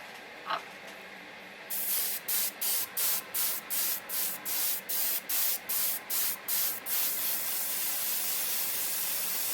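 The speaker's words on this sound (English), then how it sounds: "I need to do clear coat. So I'm going to use some future" Future floor polish used as a clear coat is sprayed onto a Bandai 1:48 Nadesico Akatsuki plastic model kit, about a dozen short rhythmic airbrush hisses in quick succession, then a sustained spray, loud and close.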